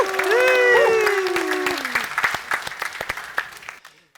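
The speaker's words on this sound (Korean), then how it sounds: "다시 한번 또 큰 박수 부탁드립니다" Audience applause breaks out after a stage performance on a Korean TV music audition show, loud at first with a sustained sung or cheering tone over it, then thinning into scattered claps that fade out.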